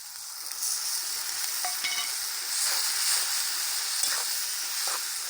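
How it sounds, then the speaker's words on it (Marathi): Green chillies frying in hot oil, a bright continuous hiss with occasional scrape and tap of a spoon as they are stirred, close and steady. "बघा आता हिरवी मिरची टाकली, हे सगळं हलवून घ्यायचं"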